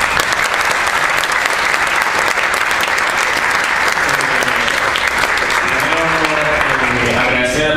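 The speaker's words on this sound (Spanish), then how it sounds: "otro aplauso por favor a los invitados" Loud, sustained applause from a crowd at a university student forum, thick clapping throughout, with a voice starting to speak over it near the end.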